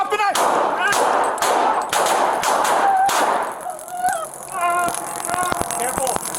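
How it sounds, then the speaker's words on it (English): Gunshots ring out during an armed police confrontation with a knife-wielding suspect inside a Calabasas restaurant: loud sharp bangs in a rapid burst, then scattered reports mixed with shouting voices and clattering. "Shot fired."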